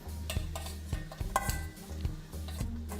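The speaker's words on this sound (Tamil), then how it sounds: "இப்போ இதில் நம்ம தனியாக நெய் முந்திரி பருப்பு திராட்சை வறுத்ததை அதில் ஃபுல்லாக ஊற்றிடுங்க." Ghee-fried cashews and raisins are tipped into ash gourd halwa in a pan and stirred, with close, irregular spoon scrapes and metallic clinks against the pot.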